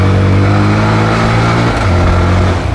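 A Honda Grom motorcycle's small engine drones loud and close, holding a steady buzzing note before shifting pitch slightly as it accelerates on a road in Thailand.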